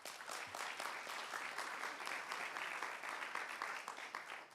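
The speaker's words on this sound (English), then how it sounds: "I'd like to acknowledge her with, again, another big round of applause" Sustained, dense applause from an audience at an evening event against antisemitism, a steady crowd of clapping hands filling the room with no voices over it.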